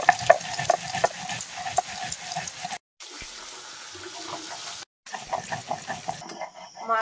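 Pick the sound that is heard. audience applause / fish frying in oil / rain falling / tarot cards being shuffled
fish frying in oil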